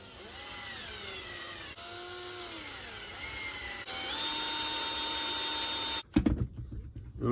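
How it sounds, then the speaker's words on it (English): A thread cutting drill bit turns at slow speed while drilling holes for an RC car upgrade, a steady whirring drone with changing pitch, followed at the end by a few clattering knocks. "that's just a thread cutting drill"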